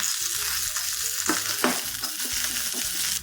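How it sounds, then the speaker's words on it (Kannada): Curry leaves fry in hot oil, a loud, close, continuous sizzle and crackle with a few sharper pops, steady throughout and with no voices. "ಇದಕ್ಕೆ ಸ್ವಲ್ಪ ಎಣ್ಣೆ ಹಾಕ್ಕೊಂಡು ಒಂದು ಸ್ವಲ್ಪ ಕರಿಬೇವಿನ ಸೊಪ್ಪು ಹಾಕಿ ಫ್ರೈ ಮಾಡಿ ಇಡಬೇಕು"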